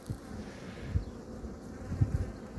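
Honeybees buzz inside a hive in a steady low drone, with a few soft bumps and knocks rising briefly above the hum.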